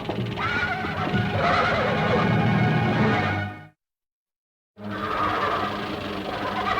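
A horse tied to a tree neighs loudly in distress, with long, strained whinnies filling the clip, then a brief silent break before the crying resumes.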